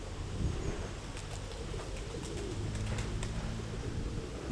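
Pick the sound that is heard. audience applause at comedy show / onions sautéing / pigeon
pigeon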